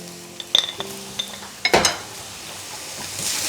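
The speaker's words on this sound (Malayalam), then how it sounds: "ഇതൊന്നിട്ട് ഇളക്കിയിട്ട് ഇനി ഇതിലേക്ക് മിൻസ്ഡ് ബീഫ് ഇട്ട് കൊടുക്കാം" A spoon scrapes and clinks against a pan while stirring vegetables with ground pepper, with a few distinct metallic knocks and a louder clatter, over a faint sizzle that builds toward the end.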